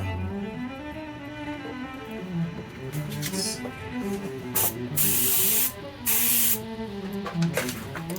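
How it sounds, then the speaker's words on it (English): Short hissing bursts of an airbrush spraying water-based acrylic paint onto a model kit in a few quick puffs, close by, over a low background hum. "give it a little spray"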